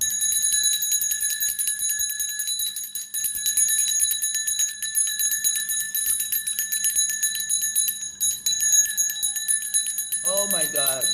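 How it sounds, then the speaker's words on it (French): A bell rung during a spiritual breathing practice gives off a bright, sustained ringing tone that hangs steadily for the whole stretch, with a brief higher wavering sound near the end. "prends ta cloche."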